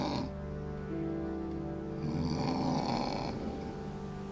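Snoring from sleepers in a crowded homeless shelter dormitory, a steady low rumbling drone that swells and thickens midway, continuous throughout.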